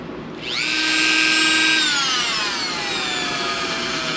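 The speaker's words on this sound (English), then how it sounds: "let's pull this out and let's drill these holes here" A power drill whines up to speed drilling holes for a fuel filter install on a KTM 890 Adventure R motorcycle, holds a steady high pitch, then slowly winds down, loud and close with no talking.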